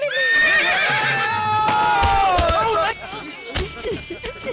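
A horse neighs in a loud, close whinny, followed by a few sharp knocks and shuffling sounds as the animal moves.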